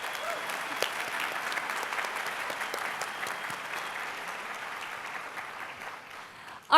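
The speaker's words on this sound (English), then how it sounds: "Let's give them all a round of applause." Sustained crowd applause at a Blue Ridge Community College spring commencement ceremony, a steady dense wash of many hands clapping that holds evenly throughout before stopping abruptly at the very end.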